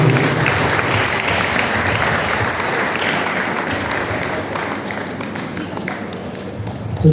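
Sustained applause from an audience at a Youth Day function, dense and steady clapping filling the room for several seconds, easing slightly toward the end.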